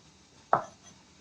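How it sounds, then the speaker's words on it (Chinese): One knife stroke through a green onion lands on a cutting board with a single sharp, close, moderately loud chop and a brief tail. Otherwise the surroundings are quiet. "把它切成葱花"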